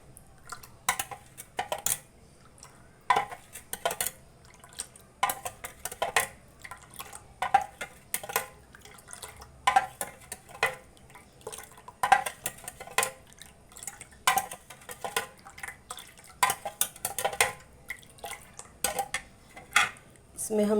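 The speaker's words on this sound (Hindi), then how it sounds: "इसको कर लेंगे अच्छे से मिक्स।" A spoon stirs basil seed sharbat in a vessel, giving repeated metallic clinks and taps against the sides over a faint liquid swish, in an irregular rhythm.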